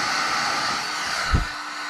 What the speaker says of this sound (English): you push it together, and then you use the heat gun on them.